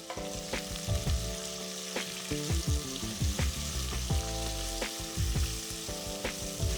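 Thinly sliced onions and slit green chilies fry in a pan, giving a continuous close sizzle broken by frequent clattering knocks of stirring.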